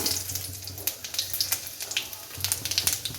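Fennel seeds and spices hit hot mustard oil in a kadai, giving a close, continuous crackling sizzle with quick pops and spits throughout.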